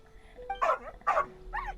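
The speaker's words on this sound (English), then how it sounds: "Oh, alright, there's a good dog. Calm down." A dog barks in the video game Genshin Impact, giving two quick yelping barks followed by a softer whining yip, close and clear against a quiet background tone.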